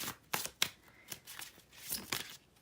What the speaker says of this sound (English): we will go ahead and shuffle.